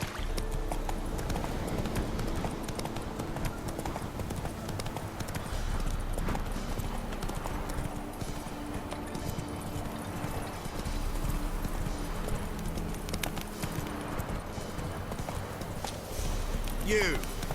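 The horse Roach trotting in The Witcher 3 video game, a steady stream of rhythmic hoof clops running throughout under continuous game speech and music.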